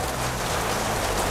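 Steady heavy rain pouring down outside an Indonesian eatery, a dense constant hiss of drops close by with no pauses.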